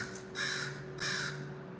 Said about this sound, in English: You hear this bird?